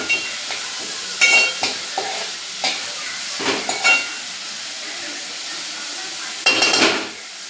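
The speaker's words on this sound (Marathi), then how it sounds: "कांदा चांगला परतून घ्यायचा" Onion sautéing in a pan for bhendi masala, a soft continuous sizzle broken by several loud bursts of spoon stirring and scraping against the metal pan, close by, with no voices.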